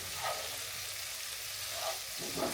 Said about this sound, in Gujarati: તો પનીર એક સાઈડે ફ્રાય થઈ ગયું છે.